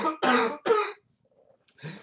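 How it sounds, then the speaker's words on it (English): Several harsh coughs come in quick bursts, two close together and then a softer, rougher one after a short pause, loud and close. "I've had this cough for a couple of days."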